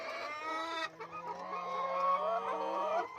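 Chickens cluck steadily on a chicken farm while a rooster crows loudly and close by, its long call running through most of the moment over the continuous clucking.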